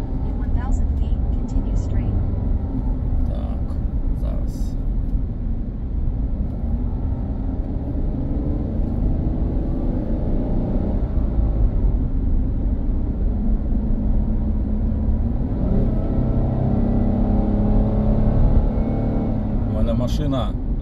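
Interior of a car with a semi-automatic transmission driving along: a steady, loud engine and road rumble throughout, with subtle shifts in pitch as gears change and a person talking over it.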